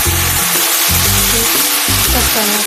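Chopped fenugreek leaves frying in hot oil with plenty of garlic make a loud, steady, continuous sizzle close up, with background music playing underneath throughout.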